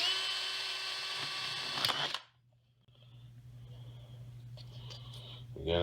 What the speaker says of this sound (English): there's the medium-sized drill. Now we'll step it up to the 5/16 bit.